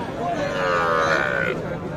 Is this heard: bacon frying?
no